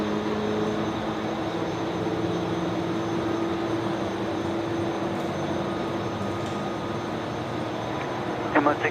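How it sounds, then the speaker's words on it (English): An Emirates jet airliner taxis along a taxiway at Brisbane Airport at night, a steady continuous engine rumble with a faint whine that holds fairly constant from start to finish at a moderate distance. "Emirates taxiing along Yankee"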